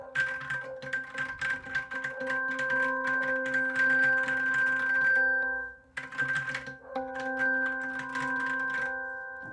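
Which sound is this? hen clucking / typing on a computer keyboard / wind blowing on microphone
typing on a computer keyboard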